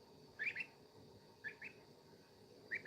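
Goslings give three short, high, thin peeps spaced about a second apart, faint and close against a quiet indoor background.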